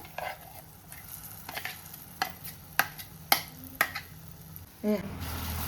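Moong dal paste stirred into semolina halwa in a pan on low flame: soft sizzling under repeated sharp scrapes and taps of a spoon, with a brief louder clatter near the end.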